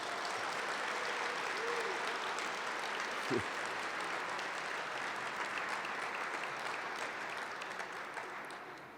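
An audience at a journalism school alumni award ceremony applauds the weekend's organizer, a broad even wash of clapping throughout with one brief louder pop near the middle, fading slightly at the end.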